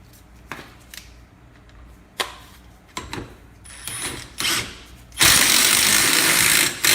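A ratchet snugs down the hub nut on a 2001-2012 Ford Escape during a front wheel bearing replacement. Scattered clicks and short bursts of ratcheting lead into a louder, sustained metallic rasp near the end.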